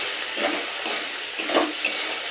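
Soaked chana dal, swollen after eight hours in water, being stirred in a frying pan, a soft steady sizzle with scraping stirs and occasional utensil clinks, fairly quiet and without speech.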